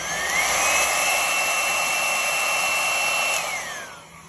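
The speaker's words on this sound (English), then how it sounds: "let's get my blower" A blower used to pop bubbles in poured paint with cell activator, giving a steady, loud, close airy whoosh with a high whine that holds for a few seconds and then winds down.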